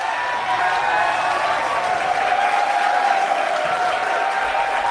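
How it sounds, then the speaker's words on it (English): A large crowd cheers and applauds at a Trump appearance, a steady, loud wash of clapping and shouting with a sustained roar throughout. "And then everybody starts cheering."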